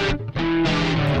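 Electric guitar with distortion runs through a Pro Tools chorus effect at its default setting, producing a short, loud, sustained chord that briefly dips before ringing on thick and shimmering.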